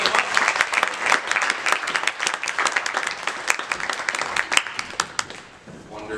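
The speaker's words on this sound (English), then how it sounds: "Give them a round of applause" An audience at an adult magic show claps for two volunteers on stage. The applause is loud and textured, with distinct sharp claps standing out, and it thins toward the end as a voice begins over it.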